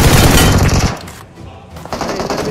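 Loud, close machine-gun bursts in the BGMI battle-royale game, a dense rapid volley followed by a brief lull and then more shots.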